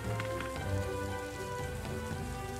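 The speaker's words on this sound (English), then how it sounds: "Because it's raining." Steady rain falls in Daggerfall Unity, a dense, even patter on surfaces that continues without a break and with no voices.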